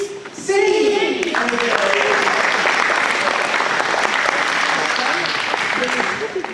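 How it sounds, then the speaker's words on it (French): A theatre audience at a club's 40th anniversary show bursts into loud, continuous applause after a brief voice. The dense clapping holds steady for several seconds, then eases slightly at the end. "Très cher public, merci pour vos applaudissements"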